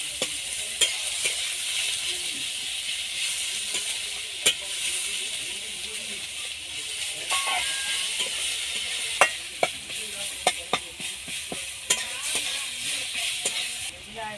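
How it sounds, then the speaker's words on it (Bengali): Chopped onions fry in hot oil with a steady sizzling hiss, broken by sharp clinks and scrapes of a spoon stirring against the pan, growing more frequent toward the end. "এবার লাল করে পেঁয়াজটা ভেজে নেব।"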